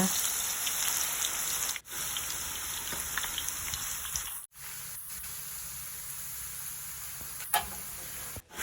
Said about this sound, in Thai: แล้วอันนี้ก็จะเป็น การฉาบกระทะแรกนะคะ